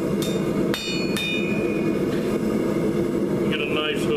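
A hammer striking hot steel on an anvil while forging a spade hook, a few sharp ringing metallic blows spaced out over a steady workshop background hum.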